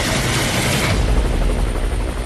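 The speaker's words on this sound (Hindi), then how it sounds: "तभी आ गया हेलीकॉप्टर।" A helicopter roars in, loud and close, its dense rotor wash and engine filling the moment continuously with a slight shift in pitch as it arrives, comic sound-effect style.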